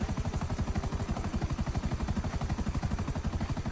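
A helicopter in GTA V Online, its rotor producing a fast, even chopping pulse that stays steady and fairly quiet throughout with no talk over it.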